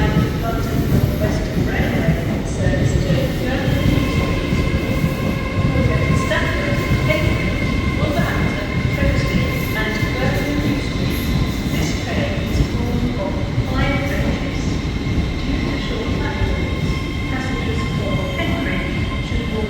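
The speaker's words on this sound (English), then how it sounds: "next train into Chester will be one of Avanti West Coast's brand new toys" An Avanti West Coast train on the line near Chester, with a steady low rumble and rhythmic wheel clatter sustained throughout, close and fairly loud, along with tonal hums from the train.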